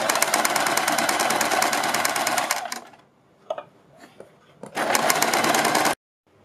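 An electric sewing machine stitches a kurti neck piece in two fast, steady runs of rapid needle chatter, separated by a quiet pause with small handling clicks, then stops abruptly.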